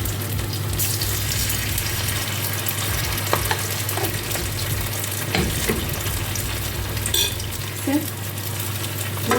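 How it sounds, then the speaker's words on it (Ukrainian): Pancakes fry in oil in a heated pan with a continuous close sizzle, broken by occasional clinks of a utensil against the pan, under a steady low hum. "Ось так смажимо."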